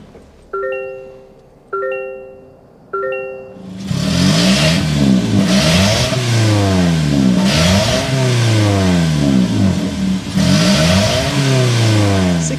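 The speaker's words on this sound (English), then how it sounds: "Let's go inside and start up this LE so you can hear that exhaust note." A 2024 Toyota Corolla LE with a physical insert key cranks in three short starter bursts, then catches and settles into a steady, loud engine and exhaust drone with rhythmic sweeping pitch changes, heard close with no talk.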